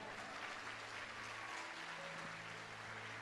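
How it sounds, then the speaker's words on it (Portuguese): A church congregation applauds in a soft, steady patter of many hands, faint and distant, with no voices over it. "Você pode aplaudir ao Senhor?"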